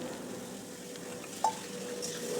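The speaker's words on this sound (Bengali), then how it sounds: "এবার ওই কুচানো শসাটা তেলের ওপর দিয়ে দিচ্ছি" Chopped cucumber hits hot oil already seasoned with panch phoron, bay leaf and dried chilli, making a low steady sizzle with one brief utensil clink and soft stirring over a couple of seconds, without talk.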